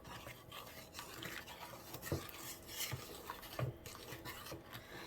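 Bread dough ingredients with salt being stirred together in a bowl, soft scraping and rubbing with occasional light knocks of a utensil against the bowl, quiet and close.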